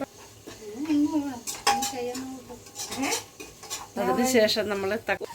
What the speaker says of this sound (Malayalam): സവാള അരിഞ്ഞ് വെച്ചിട്ടുണ്ട്. അത് നല്ലതായിട്ടൊന്ന് ഇളക്കുവാണ്.